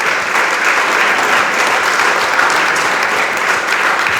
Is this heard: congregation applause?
yes